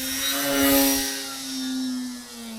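An E-Flite Decathlon RC aerobatic plane in flight, its electric motor giving a steady high-pitched whine that swells slightly as it passes and then fades a little, heard with no talk.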